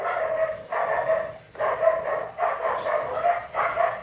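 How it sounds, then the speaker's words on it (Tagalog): Dogs barking outdoors near a home kitchen, four or five loud, evenly spaced bursts of repeated barks with brief pauses between them. "Ang ingay ng mga aso"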